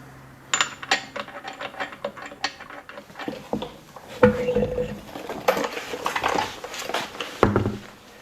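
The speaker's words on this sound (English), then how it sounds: "I also like to use this tool that allows me to take the wheel off" Clicks and metallic clatter of a nylon-sheathed socket tool at work on a BMW i8 wheel, coming as irregular close-up ratcheting and knocking with short pauses between.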